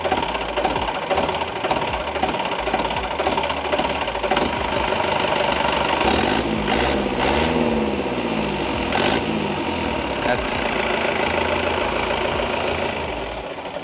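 A faulty, smoking car engine idles in a garage with a rough, rhythmic knock, then revs up in a few short bursts before settling back.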